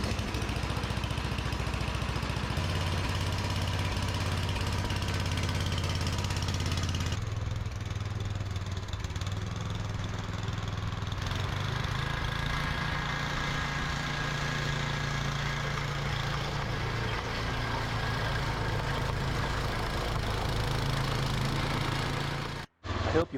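A snowblower engine, just fitted with a replacement carburetor, runs steadily with a loud, rough drone, its pitch shifting slightly partway through before cutting off abruptly at the end.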